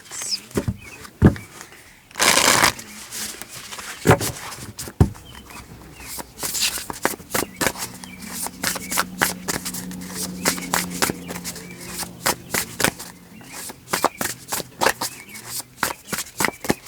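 Tarot cards riffled and shuffled by hand, a dense burst of papery flutter followed by repeated soft snaps and slides as cards are handled and drawn, close and fairly quiet with a low hum underneath.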